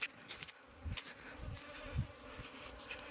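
A swarm of aggressive Apis cerana bees flying around a hive entrance, a steady high buzzing drone with several louder wingbeat swells as individual bees pass close to the microphone, with no voices.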